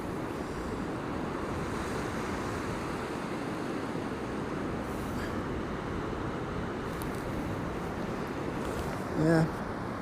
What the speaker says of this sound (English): it's a very shallow beach, and we've got a wind. We've got an offshore wind as well, which is cutting the tops off the breakers there